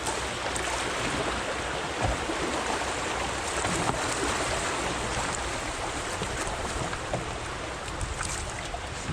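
High spring flow on the Thames River pours over a small ledge, a steady broadband rush of churning water, loud and continuous from close by with no break.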